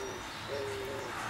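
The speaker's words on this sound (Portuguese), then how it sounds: "Eu não sei se vocês estão ouvindo, mas a pomba veio aqui cantar para mim." Soft, low coos from a dove perched on a branch a couple of metres away, two drawn-out calls in the second half of a quiet outdoor setting, with no one talking.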